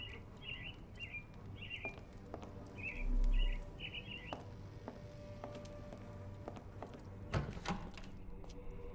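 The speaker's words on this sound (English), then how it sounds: "The birds." Small birds in Sherlock Holmes: The Awakened chirp in short bursts over a faint ambient background, with a soft thump partway through and a sharper knock near the end.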